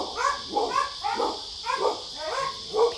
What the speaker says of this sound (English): so my dogs are barking